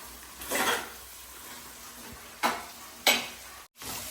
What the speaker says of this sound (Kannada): ಈಗ ಇಲ್ಲಿ ಅನಿಯನ್ಸ್ ಫ್ರೈ ಆಗ್ತಿದೆ.